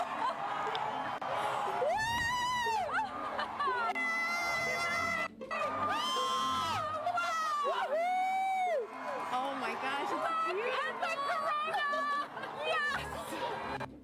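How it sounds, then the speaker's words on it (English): A large outdoor crowd at a solar eclipse erupts in sustained shouting, cheering and whooping, many voices layered in a loud, continuous roar with rising and falling yells. "Sigawan na po mga sangkay."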